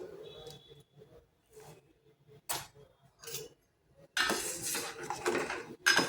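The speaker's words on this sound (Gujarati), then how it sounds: "હવે આપણે થોડું હલાવી લઈશું।" A metal spoon scrapes and clinks against a pot of milk with sugar as it is stirred, the strokes coming in irregular bursts, some short and soft, then a longer stretch of louder, busier scraping near the end.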